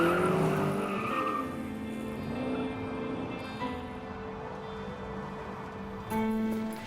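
A car speeding along a roadside at night, its tyre and engine noise sweeping past loud and close, then fading, with a second swell of road noise near the end.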